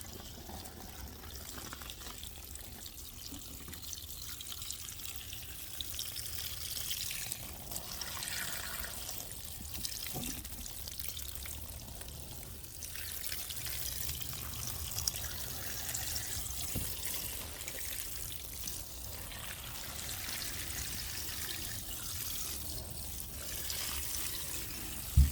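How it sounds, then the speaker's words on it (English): Water trickles and pours quietly onto leaves in a hot compost bin, a soft continuous splashing and dribbling that stays faint and fairly even throughout, with no voices. "And so now we're just gonna add some water."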